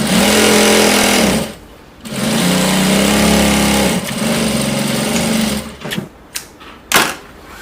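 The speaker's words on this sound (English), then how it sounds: "I'll sew it all the way here." Sewing machine stitching a dress seam in loud, close bursts, running steadily for stretches with brief pauses, then ending in short stop-start runs.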